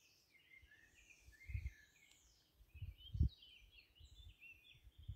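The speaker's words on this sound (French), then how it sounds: "Et entendre les oiseaux aussi." Birds sing in the morning countryside, with faint scattered chirps and short warbling phrases in the distance over a quiet background broken by a few low thumps.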